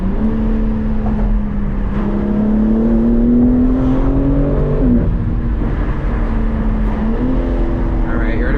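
A BMW G80 M3 Competition spins around during hard POV driving, its engine a loud, close, steady drone whose pitch climbs, dips and recovers as it turns.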